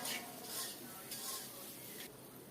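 A spice paste with turmeric and sliced green chilies frying for a hilsa fish curry with taro, stirred in a pan with a few soft scraping strokes over a low, quiet sizzle.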